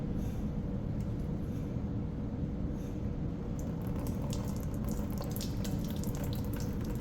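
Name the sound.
liquid poured through an air conditioner condenser line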